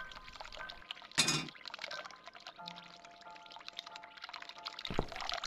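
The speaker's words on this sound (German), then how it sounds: "Ich höre das Wasser laufen." Water running in a bathroom in the horror adventure game The Cat Lady, a quiet pouring trickle with a brief louder splash and faint clinks, no voices.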